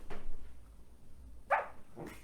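A dog gives a short bark, then a second softer yelp, close and fairly clear against a quiet indoor room.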